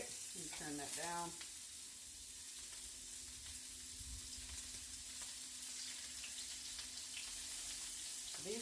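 Shrimp and scallops seasoned with Old Bay sizzle steadily in a pan on a home stove, a continuous bright frying hiss throughout with brief talk at the start.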